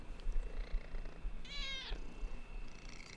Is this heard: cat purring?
yes